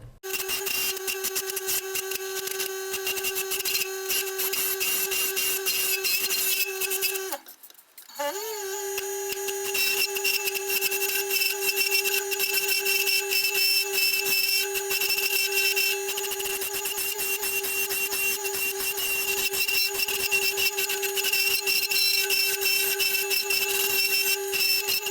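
Wood lathe hollowing a spalted wood bowl, a steady high tonal whine with scraping cutting noise, pausing briefly partway through before resuming, continuous and fairly loud.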